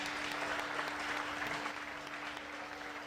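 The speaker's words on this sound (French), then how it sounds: "Applaudissez pour la musique au Cameroun." A crowd at a comedy show applauds the music of Cameroon, a steady, faint spread of clapping with a low steady hum underneath.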